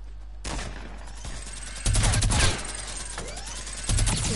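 Minigun fire in the Fortnite video game: loud, continuous rattling bursts that swell in two heavier stretches over a constant game background hum, with no voices.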